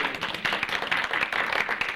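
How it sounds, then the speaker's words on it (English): An audience at a farm center gathering claps in a steady burst of applause, many hands patting at once from nearby, loud and sustained without pause. "I think we owe her another round of applause"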